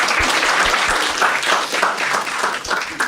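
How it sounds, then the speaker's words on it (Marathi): Applause from a stand-up comedy audience, a thick, continuous patter of clapping from a crowd that swells and stays loud for a few seconds. "एकदा टाळ्या वाजवा यांच्यासाठी"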